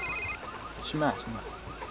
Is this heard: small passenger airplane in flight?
no